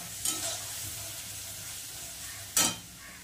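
Stuffed pointed gourd is stirred and dry-fried in a kadai, giving a faint continuous sizzle punctuated by two sharp scraping strokes of the spoon against the pan.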